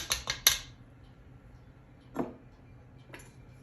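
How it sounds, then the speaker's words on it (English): A metal beater blade is pulled out of a mixing bowl of oatmeal cookie dough, three quick sharp clinks up front, then two fainter knocks later in near silence. "Take your beater blade out of here."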